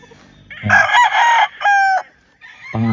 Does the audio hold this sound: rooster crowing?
yes